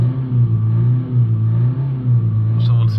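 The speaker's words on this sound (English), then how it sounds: "we're just going to hold the revs up for a couple of minutes like this" A Toyota Yaris 1.4 D4D diesel engine with a soot-restricted particulate filter drones steadily at held high revs, a close, loud low hum that rises and falls slightly, with a brief muffled voice near the end.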